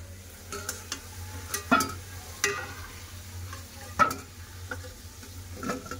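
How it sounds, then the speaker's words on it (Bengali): Potato pieces fry in hot oil in a pan with a soft steady sizzle, broken by several distinct scraping stirs of a spatula at irregular intervals, close and fairly quiet with no talking. "দিয়ে ভালো করে লাল করে আলুগুলো ভেজে নেবো।"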